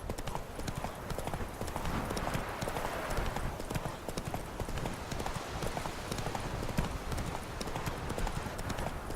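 Hooves of the horse Roach in The Witcher 3 clip-clop steadily and fairly loudly at a brisk trotting pace, a dense unbroken rhythm with faint background game ambience.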